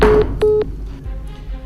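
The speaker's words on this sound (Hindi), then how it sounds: "अरे रोहित शेट्टी का फोन आ रहा है।" Phone tones in a short series: a sustained beep followed by two quick clear electronic tones, moderately loud, with a faint muffled background afterward and no talking.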